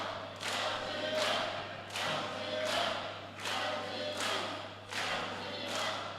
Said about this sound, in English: Huge support in the crowd.